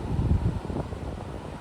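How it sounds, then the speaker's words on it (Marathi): Wind gusts across a seashore at low tide, with a broad rumbling wash of small waves near the microphone that is strongest at the start, then settles into steady blustery noise. "आज लाटा पण जरा येतात कारण की वारा पण आहेत जरा"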